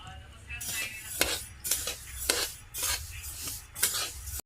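A spoon scrapes and stirs sesame seeds roasting in a pan for karanji, giving repeated gritty rattling sweeps about every half second, close and clear with faint crackle between strokes.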